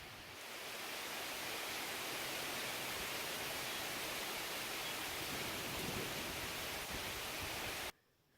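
Rain falls steadily on a freshly planted upper food plot, a smooth, even hiss that swells in during the first second, holds constant, then cuts off abruptly near the end.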